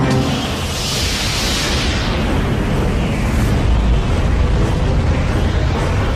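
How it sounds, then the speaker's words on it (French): A huge Big Bang explosion effect, a continuous loud roaring rumble with a hissing, swelling burst of energy that holds steady for six seconds. "L'univers se déploie dans une formidable explosion d'énergie et de matière."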